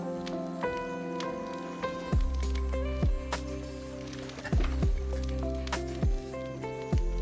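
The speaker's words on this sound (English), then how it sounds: "I'm gonna wait here while I pour my water in my cup." Water poured into a cup, a close, steady trickle over a dense bed of ongoing game music, with no talking.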